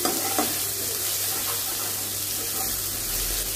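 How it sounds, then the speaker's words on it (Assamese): Garlic fries in hot oil for masoor dal, giving off a steady close sizzle and crackle that runs without a break, with no talking. "আৰু এতিয়া এই নহৰুখিনি মই একেবাৰে ৰঙচুৱাকৈ ভাজি লওঁ।"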